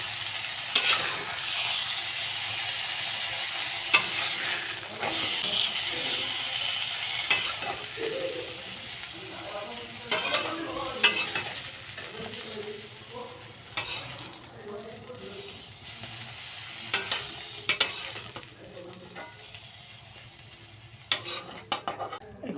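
Eggplant pieces frying in oil in a pan, with a continuous sizzle broken by repeated scraping and clinking of a spatula against the metal, sometimes sharp and close.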